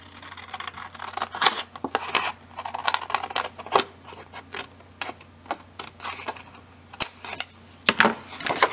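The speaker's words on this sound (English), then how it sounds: "the next step would be to cut along this line right here to separate the two pieces." Scissors snip through paper pages for a mini book in a series of crisp, close cuts at an uneven rhythm, with soft rustling between them.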